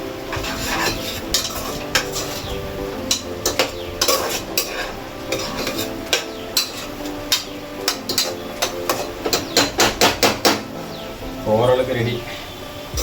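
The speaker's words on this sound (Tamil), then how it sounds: "நல்லா மிக்ஸ் பண்ணிங்கன்னா சூப்பராக வந்துடும்." Chicken biryani ingredients being mixed in a pot, a spoon scraping and clanking against metal in repeated rhythmic strokes, loud and close, with a light sizzle underneath and someone talking over it.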